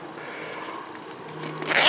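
Zipper on a Longmate bike repair kit bag being pulled open, a short scratchy rasp that rises in loudness at the end, heard close up with no talking.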